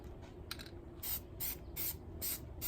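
Plasti Dip coating is sprayed onto Ford F150 emblems in four short hissing bursts about half a second each, separated by quiet gaps, fairly soft and close.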